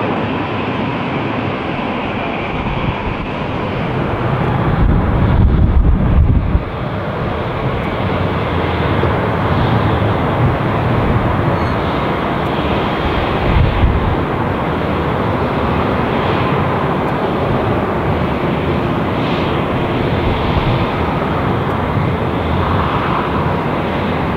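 Jet airliner taking off from runway 24 left at Los Angeles International Airport, a loud continuous engine roar that swells slightly and holds steady throughout, no talk.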